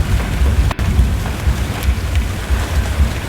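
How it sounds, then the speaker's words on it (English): Hail and heavy rain pound a truck during a tornado chase, a dense, continuous rattling roar of ice striking metal with low rumbling underneath and no voices. "this hail's making it hard to turn."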